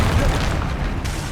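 Confringo spell explosion in Hogwarts Legacy, a loud booming blast with a rumbling low end amid ongoing combat effects.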